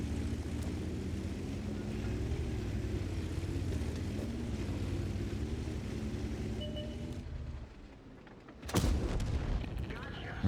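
A CS-63 medium tank in World of Tanks fires an HE shell from its cannon. A steady engine rumble runs for several seconds, then one sharp, loud blast cracks out near the end.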